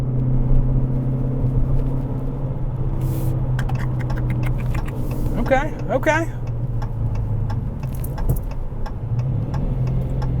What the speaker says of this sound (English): The rumble of that Hemi.